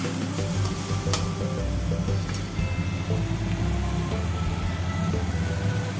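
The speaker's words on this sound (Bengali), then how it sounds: "একটু ভেজে নিলাম" Chutney ingredients fry steadily in a pan with oil, turmeric and salt, a continuous sizzle with faint stirring scrapes and no talk.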